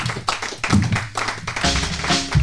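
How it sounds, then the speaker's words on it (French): Brief, uneven clapping from an audience after a talk, made of a few scattered bursts of hand claps over a short span. "Je pense qu'elle mérite des applaudissements."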